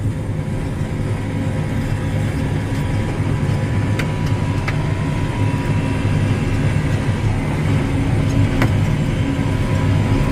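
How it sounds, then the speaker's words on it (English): Kuhn ProPush 2044 manure spreader with its beaters running at full speed, a steady loud mechanical drone with a deep rumble and a few sharp metallic ticks, continuous and close. "the beaters are going full crank, and the machine's not shake, rattling, and rolling like it's gonna fall apart"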